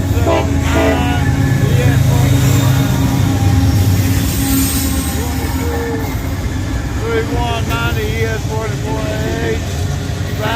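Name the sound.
southbound freight train with three locomotives passing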